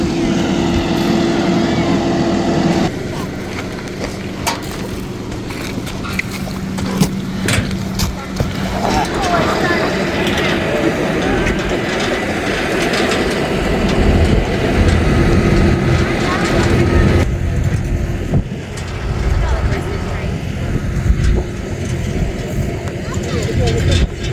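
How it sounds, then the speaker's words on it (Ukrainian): A tractor drives past on a farm, a steady low engine drone that swells and fades over the whole stretch while people talk throughout. "Якраз трактор їде."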